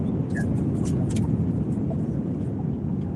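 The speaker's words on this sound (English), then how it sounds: "Here, guys, do you want to hear this V8?" A V8 car engine drones steadily from inside the moving car at highway speed. The low rumble is constant and fairly loud with faint road noise, and no one talks over it.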